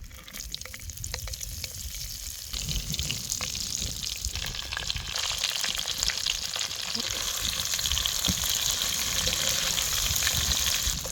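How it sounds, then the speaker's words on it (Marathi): Eggplants fry in hot oil with mustard seeds for a spicy eggplant curry, giving a continuous dense sizzle and crackle that grows slightly louder. Faint background speech is heard under the frying. "आता मोठी पळी तेल टाकलेलं गरम झालं एक चमचा मोहरी घाला त्याला ती सगळी वांगे टाकायची"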